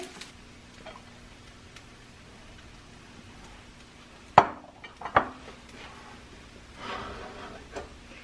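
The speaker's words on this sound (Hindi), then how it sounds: "स्पैगेटीज रेडी हो चुकी हैं और अब हम फाइनल इसको डिश में डालेंगे" Vegetable spaghetti is put into a serving dish, with a few sharp clinks of utensils against the dish amid quiet scraping and soft handling noises, no talk.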